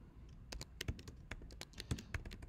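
Someone types on a computer keyboard, a quick irregular run of crisp, close key clicks with brief pauses between bursts.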